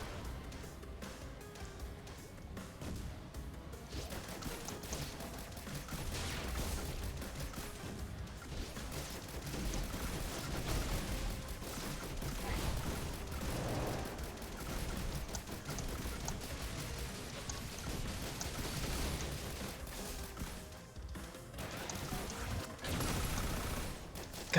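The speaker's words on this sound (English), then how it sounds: "God, that Gauss cannon does not do a lot." Gauss cannon gunfire in the Risk of Rain Returns video game, a dense, continuous barrage of rapid shots and crashing impacts layered over game sounds, loud and sustained throughout.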